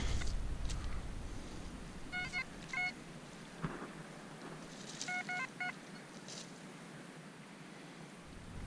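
Short electronic metal detector signal beeps in two quick bursts, a few tones each, over steady outdoor background noise with occasional rustling thumps.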